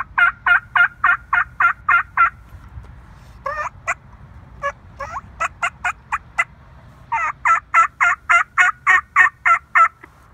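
A Primos Hook Hunter Ghost Cut turkey mouth call produces loud, close runs of evenly spaced yelps with a slight rasp, broken by a few shorter clucks and cutts before another steady yelping sequence.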